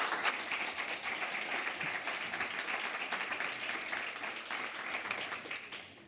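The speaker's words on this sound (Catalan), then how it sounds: "els rebem amb un aplaudiment" A conference audience breaks into applause, a dense, even crackle of many hands clapping at once, sustained for several seconds at moderate distance before starting to thin toward the end.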